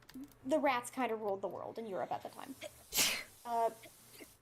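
A single sharp, noisy sneeze bursts out loud and close between stretches of someone talking.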